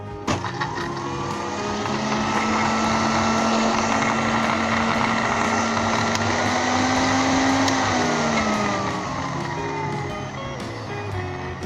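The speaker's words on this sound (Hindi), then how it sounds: "और 1 चिकन क्यूब, और इसे 10 से 15 सेकंड के लिए ब्लेंड कर लें।" A blender whirs steadily for several seconds, blending egg and chicken cube for homemade chicken mayonnaise, with a loud continuous motor drone that shifts slightly in pitch before tapering off.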